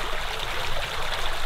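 A small stream in a Norwegian brook flows over stones with a steady, close, full rushing and trickling wash and no voices.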